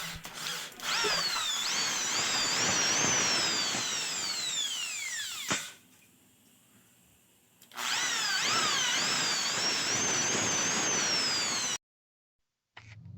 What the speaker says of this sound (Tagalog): pinalitan niya na yung barena ng mas malaki para ulitin yung butas